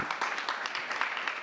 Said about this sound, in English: I say that deserves an applause.